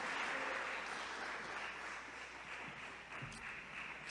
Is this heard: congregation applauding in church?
yes